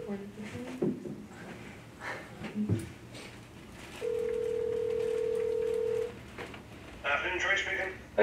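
On a phone set to speakerphone, a few faint taps and rustles come first, then a steady dial tone holds for about two seconds, followed by a quick burst of dialing tones.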